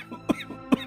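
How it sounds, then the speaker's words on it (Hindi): A man coughs in an animated Hindi story, two short, moderately loud coughs spaced about half a second apart. "शंकर का शुगर बढ़ जाता है और वो जोर जोर से खांसने भी लगता है"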